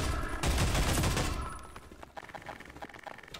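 Gunfire in the video game Half-Life 2, a dense loud burst of shots followed by scattered fainter pops and clatter.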